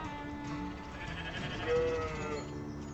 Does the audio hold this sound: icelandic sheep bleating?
yes